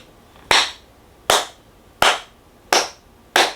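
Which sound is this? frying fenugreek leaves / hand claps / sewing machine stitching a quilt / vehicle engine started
hand claps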